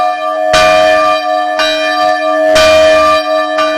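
A rope-pulled church bell rings loudly in repeated strokes, each clang ringing on with a long sustained hum between strikes, about once per second.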